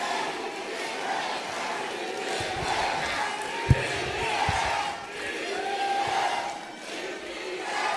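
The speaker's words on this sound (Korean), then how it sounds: "뜨거운 박수로 맞이해 주시기 바랍니다." A large crowd at a political party convention, gathered for a women's leadership candidate speech, gives sustained cheering and shouting throughout, with one sharp thump in the middle and no clear applause rhythm standing out.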